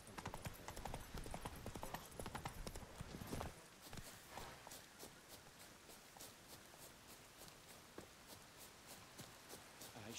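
Hoofbeats of Roach, the horse in The Witcher 3 game, clop in a steady rhythm throughout, louder and mixed with other game sound in the first few seconds, then carrying on alone.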